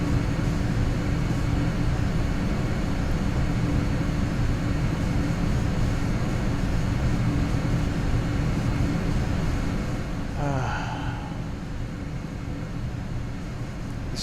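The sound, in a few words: LearJet flying in Microsoft Flight Simulator X video game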